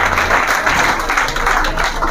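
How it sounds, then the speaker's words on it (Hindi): An audience in a classroom seminar clapping for a student, a steady close patter of many hands sustained for a couple of seconds. "भाई के लिए भाई ताली बजाओ"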